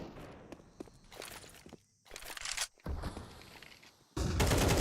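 Gunfire in Counter-Strike 2 comes in several loud bursts, with footsteps between them. A final sustained volley ends the stretch.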